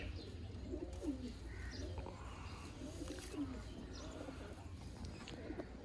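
Sialkoti pigeons coo softly on a house rooftop, several low throaty calls repeating at intervals over quiet outdoor background noise, with faint chirps mixed in.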